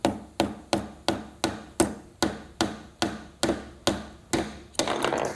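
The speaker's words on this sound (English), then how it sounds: "I can take my nail and I can try and hammer it with a banana" A liquid-nitrogen-frozen banana used as a hammer strikes a nail about a dozen times, sharp evenly spaced knocks that each ring briefly, ending in a rougher clattering burst.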